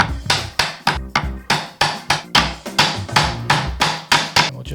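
A mallet drives a chisel to cut a stub mortise in wood for a Shaker table, about a dozen sharp, evenly spaced strikes, loud and close with short decays between blows.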